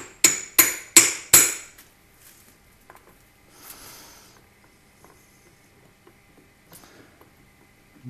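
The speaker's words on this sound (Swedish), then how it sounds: "Ta hammaren." A hammer drives the rear seal into an M41 gearbox with four sharp, evenly spaced blows, followed by a few faint taps and light handling noises.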